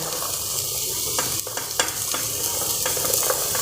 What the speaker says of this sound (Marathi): आता यामध्ये आपल्याला घालायच्या आहेत भाज्या ते आपण भाज्या घालूयात